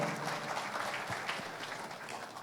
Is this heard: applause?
yes